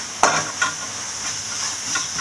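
Carrot, beans and capsicum being sautéed in a pan, a steady close sizzle with a couple of sharp stirring scrapes near the start, no voices.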